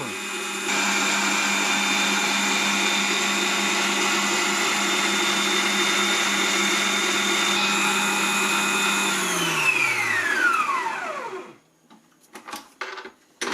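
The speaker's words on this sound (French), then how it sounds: "On va faire des blancs en neige, alors là il n'y a que 2 blancs d'œufs" A stand mixer whips two egg whites with a pinch of salt, its motor a steady loud whine holding for about nine seconds before winding down to a stop, then a few light clatters.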